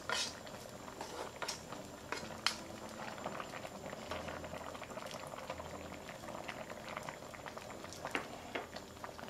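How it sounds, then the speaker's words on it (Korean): Kalguksu noodles boiling in a pot of spicy broth, a steady close bubbling with frequent small pops and splutters throughout, faint and continuous. "면을 넣고 한 3분 정도 삶 후에 나머지 야채도 모두 다 넣어 주겠습니다"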